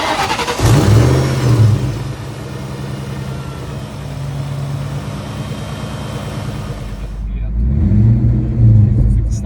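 A Ford Mustang V8 with a slight exhaust leak idles and revs at a meetup, deep loud engine rumble rising at the start and end, with a quieter stretch between.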